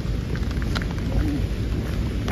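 Steady rain falling at Lake Molveno in Italy, a dense, even hiss of drops close by with occasional louder patters, no voices.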